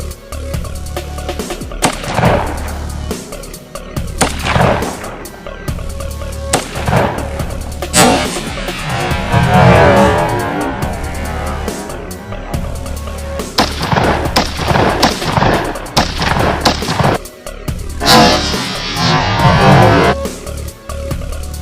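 Repeated 9mm handgun shots fired into hard drives, loud sharp reports at irregular intervals across the span, some clustered in quick bursts, with outdoor echo and background noise between them.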